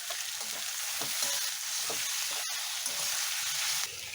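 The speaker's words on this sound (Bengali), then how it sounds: "এখন আমার চিকেনটা অনেকটা ভাজা হয়ে গেছে।" Strips of boneless chicken with garlic fry in a pan for chow mein, giving a steady, close sizzle with a few soft stirring scrapes and no talking.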